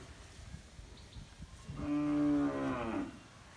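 A single drawn-out moo from a bull calf, fairly close, rising out of quiet background noise and fading after about a second.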